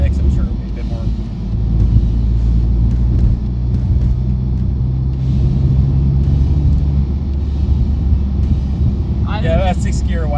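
Honda Civic Type R pulling at wide open throttle in 6th gear from 2,000 RPM, a steady deep engine drone and road rumble heard from inside the cabin, with a voice speaking briefly at the end.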